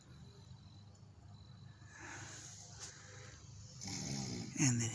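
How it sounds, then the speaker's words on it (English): A man snores indoors, slow rough breaths rumbling at moderate volume, with a louder snort-like catch near the end; no words are spoken. "And then he's back to snoring again."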